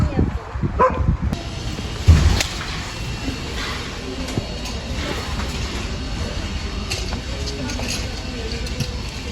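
Two plump stray dogs bark outdoors on a windy day in the Kuban region, with a short burst of yipping barks near the start amid steady wind and outdoor background noise.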